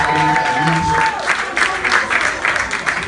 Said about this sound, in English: Clap it up for my man Joe Hill, man, because you put this together